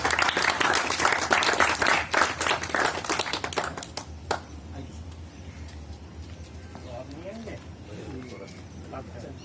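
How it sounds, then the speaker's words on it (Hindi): Audience at an Independence Day celebration applauding to welcome guests for a lamp-lighting ceremony, dense loud clapping for about four seconds that stops abruptly, followed by quiet room noise with a few faint voices. "जोरदार तालियों के साथ स्वागत कीजिए।"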